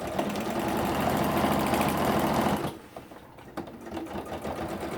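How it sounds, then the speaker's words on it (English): A sewing machine stitches a quilted fabric journal cover in a steady, fast mechanical whir. It runs for under three seconds, then stops, leaving quiet fabric handling and small clicks, with no talking. "I'm just following my stitch line, keeping my presser foot parallel to my previous stitch line."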